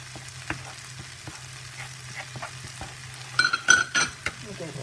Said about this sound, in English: saute that a little bit in here